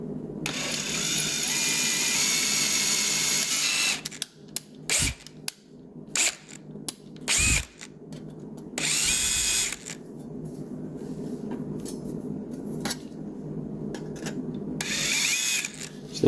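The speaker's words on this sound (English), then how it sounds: "hole A drilled out to 110 thousandths" A small bit drills out a hole to 110 thousandths in the steel separator plate of a 1973 Dodge Dart Torqueflite transmission, a grinding whir in stop-start bursts, close and moderately loud with no speech.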